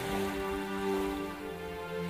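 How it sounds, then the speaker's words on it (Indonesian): Heavy rain pours steadily through a storm as an audio-drama effect, a dense continuous wash with a low rumbling undertone, loud and unbroken throughout. "Sementara itu, badai masih juga belum reda."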